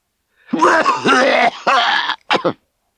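A voice imitates a huge, rasping cough, with three or four harsh throaty bursts, loud and close.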